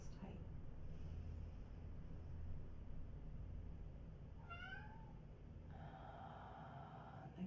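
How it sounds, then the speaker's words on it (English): A single cat meow rises briefly over a steady low background hum, followed by a faint whining tone. "The kitties meow."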